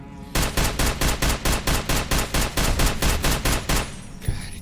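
A rapid, evenly spaced string of about fifteen loud gunshots fired at creatures in modded Fallout: New Vegas, close and punchy, ending abruptly with a short trailing shot.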